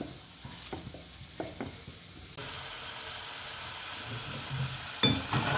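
Taro pieces fry in hot oil for a traditional fasting dish, giving a steady, close sizzle with a few light stirring clinks and no talk.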